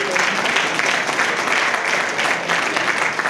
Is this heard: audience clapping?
yes